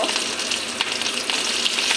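Garlic and green chillies fry in hot oil in a kadai, giving a close, steady, crackling sizzle that runs unbroken with no voices.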